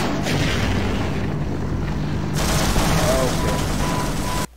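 Gunfire at troops in Sven Co-op comes as a loud continuous barrage of booming shots and rattling fire, with people talking over it, cutting off abruptly at the end.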